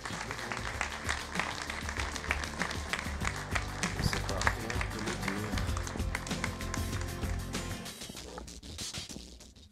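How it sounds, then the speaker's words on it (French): Conference audience applauding, a sustained wash of many hands clapping in a hall, fairly distant and even throughout, with some voices beneath. "je vous demande maintenant vraiment de réserver vos applaudissements pour toutes celles et tous ceux qui ont contribué"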